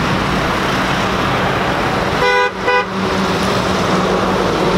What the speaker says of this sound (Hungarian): Mindenki dudálgat.